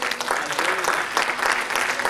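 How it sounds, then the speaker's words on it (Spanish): A church congregation applauds during a sermon, with dense, continuous clapping that swells and dips slightly across two seconds, and a faint voice in the background. "¿Cuánto le dan ese aplauso al Rey de Reyes,"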